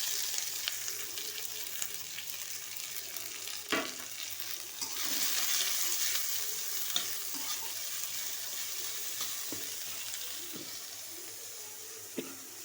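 Chopped onion, chili and black cumin frying in a pan for an egg bhujia, a steady soft sizzle with occasional stirring scrapes and clinks, close and alone.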